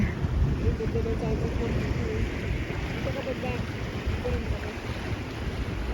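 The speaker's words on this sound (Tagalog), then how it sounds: "Lumalaki yung alon. Nakakatakot." Sea waves slosh and rush around a small boat as the swell grows, a steady churning wash with wind buffeting the microphone, continuous and fairly close.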